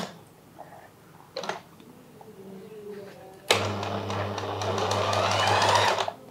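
Sewing machine stitching the cuff of a salwar, a steady loud mechanical whir running near the close for a few seconds after some quiet handling of fabric, with no talk over it.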